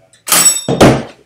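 An Iron Gym pull-up bar hooked onto a doorway at home: two quick, close thunks of metal against the door frame in succession.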